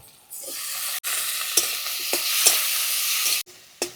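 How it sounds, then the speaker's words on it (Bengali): Chopped onion and tomato drop into a hot pan for a black carp and potato curry, setting off a loud, steady sizzle broken by brief gaps and a few sharp clinks of a utensil. "এবার কেটে রাখা পেঁয়াজটা দিয়ে দেব দিয়ে দিচ্ছি কেটে রাখা টমেটো"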